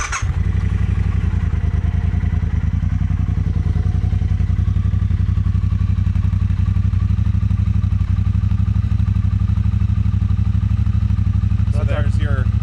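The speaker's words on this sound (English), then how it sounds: "So there's your Cold start at about cold start, standard exhaust." A Triumph Bobber motorcycle with its standard exhaust idles steadily and loudly up close after a cold start, a deep continuous rumble with a few clatters near the end.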